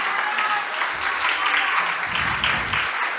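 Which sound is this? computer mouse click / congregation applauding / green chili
congregation applauding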